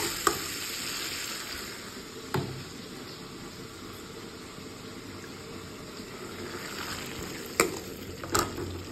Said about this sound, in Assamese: ইয়াত ফাৰ্ষ্টত কচুটো দি অলপ দেৰি লৰাই ল'ম